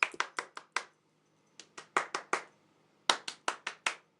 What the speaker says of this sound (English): I can make your hands clap.